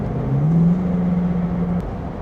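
A GM LS3 6.2-liter V8 of roughly 425 horsepower, fitted in a custom Land Rover Defender, holds a steady, close idle hum after a brief rise in pitch, then settles slightly at the end.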